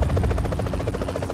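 A helicopter in the PUBG Mobile video game gives a steady, rapid rotor thump and engine drone, loud and close throughout, with no voices over it.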